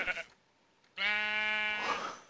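A sheep in the video game Minecraft gives a single clear, drawn-out bleat after a brief quiet pause, moderately close and heard alone.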